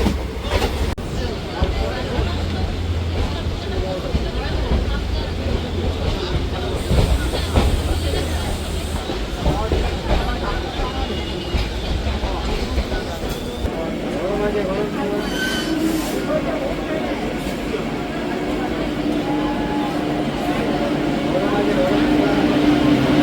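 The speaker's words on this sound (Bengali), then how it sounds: "ট্রেন এখন আমাদের ছেড়ে যাচ্ছে গুসকরা স্টেশন।" On board the Ganadevta Express as it pulls out of Guskara station: a loud, continuous rumble of the moving train with rhythmic wheel clatter and occasional squeals, building steadily, while people talk throughout.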